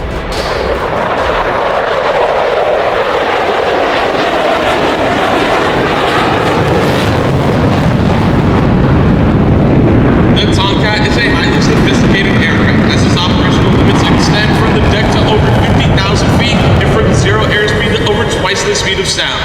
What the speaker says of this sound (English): from the right, the Tomcat knife edge wing sweep pass